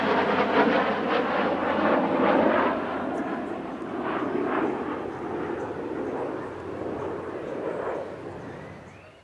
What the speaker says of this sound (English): This is the Royal Air Force version of the Hawk AJT series, which fly in the advanced jet training role from RAF Valley